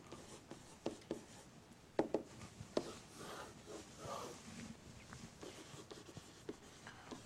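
Pen or marker writing on paper, with scratchy strokes and a few sharp taps in an irregular rhythm, close and fairly quiet, with no talk.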